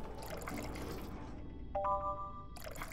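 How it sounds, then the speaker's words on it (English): Water runs steadily in Yuppie Psycho for a couple of seconds, a soft broadband trickle that is briefly joined by a brighter tonal chime in the middle. "water."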